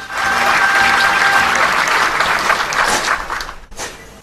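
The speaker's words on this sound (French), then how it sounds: "a soulevé une salve d'applaudissements nourris" Sustained, hearty applause from spectators at a military parade, Nigerian soldiers performing a precise drill demonstration before the presidential stand, a broad wash of clapping that swells and then thins near the end.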